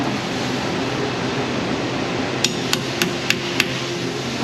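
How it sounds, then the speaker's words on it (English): A hammer strikes a socket to knock loose a stuck fastener during axle work on a 2005 Chevrolet Silverado 6.0 LQ9. Five quick, sharp metallic taps come close together over a steady background hiss. "Fun little trick when you get your fastener stuck in a socket. Hit it with a hammer."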